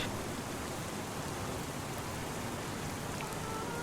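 Steady, even rain hisses down in Farming Simulator 25, a dense continuous patter on surfaces with no voices.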